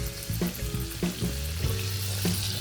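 Angus beef frying in a generous amount of oil, a steady close sizzle and crackle with occasional spatters and stirring scrapes throughout, no voices.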